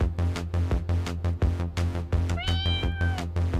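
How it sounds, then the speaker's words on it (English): A cartoonish cat meows in the video game Howler for an Hour, a rising-then-falling meow over a loud pulsing game music track with a steady beat. "Cats!"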